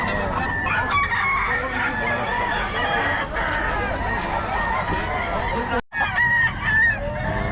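Chickens offered for sale cluck steadily while a rooster among the hens crows loudly and nearby, with people talking throughout.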